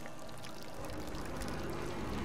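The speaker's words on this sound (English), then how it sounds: "We're on a boat and it's going fast" A boat speeds across water in the horror game Layers of Fear 2, producing a dense, steady rush of churning, splashing water that fills the whole stretch without pause.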